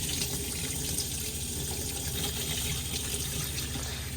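Hot water runs from a tap into a sink inside a Benimar Mileo 282 motorhome, a steady continuous hiss and splash at moderate volume with no voices.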